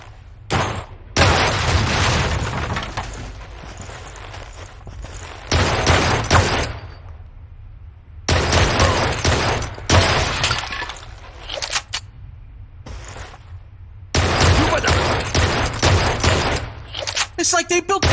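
Dense bursts of gunfire with breaking glass erupt loudly in the video game Blue Estate, coming in several long volleys separated by short pauses.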